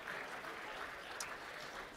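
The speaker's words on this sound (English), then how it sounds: "give a round of applause" Faint, distant applause from an audience at a sports foundation event in a hall, a soft continuous wash of clapping.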